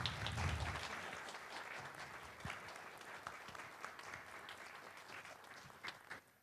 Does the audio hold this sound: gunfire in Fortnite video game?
no